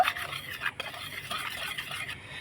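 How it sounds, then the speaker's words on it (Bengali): Dry ingredients with rice flour and chopped curry leaves being stirred together in a bowl, a continuous soft scraping and rustling close by, steady with no voices. "এবার শুকনো উপকরণগুলো একটু মিশিয়ে নেব"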